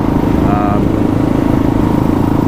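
A Kawasaki KLR650 motorcycle idles steadily with a low, even engine rumble throughout, during a cooling system check.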